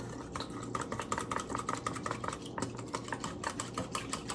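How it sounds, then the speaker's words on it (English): A whisk beats a cornstarch sauce mixture for Kung Pao chicken in a bowl, giving rapid, fairly quiet rhythmic clicks and taps that continue steadily throughout. "Let me take another whisk. I'm just going to mix all of this together."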